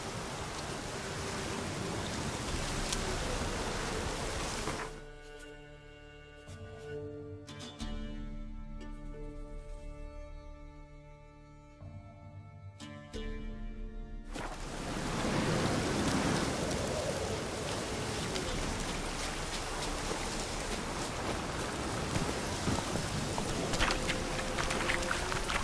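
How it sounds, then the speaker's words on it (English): Rain falls in the video game The Witcher 3 as a steady, broadband hiss. A quieter stretch in the middle brings low tonal sounds, then the downpour returns louder and fuller, with no voices. "Looks like rain."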